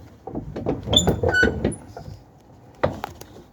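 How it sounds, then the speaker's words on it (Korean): A box truck's rear door is swung shut onto its door switch, giving a cluster of metallic clanks and rattles, then a quieter pause and one more sharp clack near the end, heard up close. "이렇게 해서 문을 닫게 되면은"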